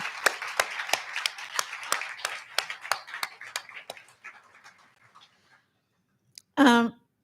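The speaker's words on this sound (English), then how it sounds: "So please join me in a round of applause for all of the sponsors of this evening." Scattered applause for the sponsors at the 2021 Bright Promises awards livestream, a run of sharp separate claps that thins out and fades, then a brief voice near the end.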